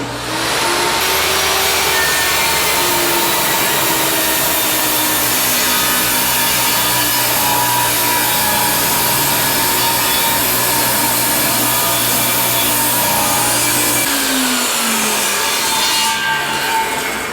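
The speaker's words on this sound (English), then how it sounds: "Now I can cut the next shim." A table saw rips a wooden 2x4 into a quarter-inch-thick, four-foot-long shim during a bathroom renovation in a 100-year-old house. The loud, steady blade-and-motor whine holds for the whole cut and changes tone briefly near the end.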